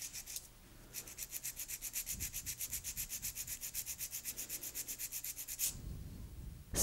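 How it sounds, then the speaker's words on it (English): Nail file shaping an extra-long coffin-shape nail, a quiet, steady run of quick rhythmic back-and-forth strokes, close and alone. "I will be filing in 5 steps"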